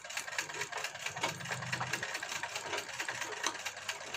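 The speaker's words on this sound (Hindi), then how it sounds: "जो एक्स्ट्रा होगा उसको कट कर लेंगे तो ये हमने कट कर लिया डबल सिलाई लगा देते हैं" An electric sewing machine runs steadily, double-stitching the back neck of a blouse with a fast, even mechanical whir and a rapid needle rhythm, loud and close throughout.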